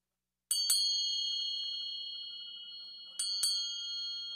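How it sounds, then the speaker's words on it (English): A tuned school bell, pitched near a slightly sharp F, is struck twice in quick succession, then struck twice again about three seconds later, each pair ringing out clearly and sustaining with a slow decay in an otherwise quiet room. "The school bell."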